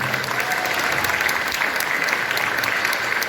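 Steady, dense applause from a seated crowd at the opening ceremony of a dance sport cup, continuous and fairly loud throughout with no voices standing out.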